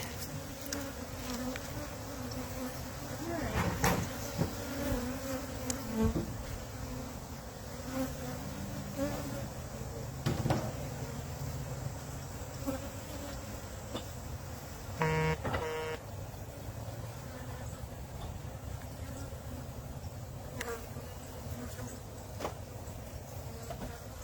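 Honey bees buzz densely around an opened hive box, a continuous close drone with individual bees swelling past, and a brief horn-like tone partway through.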